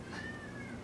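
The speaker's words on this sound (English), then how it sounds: "Oh, the cat wants some too." A house cat gives a single short meow, close and fairly quiet, over a steady low background hum with no talking.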